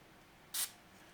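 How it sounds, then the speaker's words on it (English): A single short hiss of spray on a Chapman ML Standard guitar nut, close and brief, lasting a fraction of a second in an otherwise quiet room. "Tiny spray."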